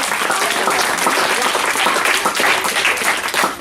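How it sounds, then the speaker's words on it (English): An audience applauds participants at an afternoon Torah study session, a steady, dense wash of clapping from many hands that fills the room at even loudness throughout. "Let's give them all a round of applause just for the effort."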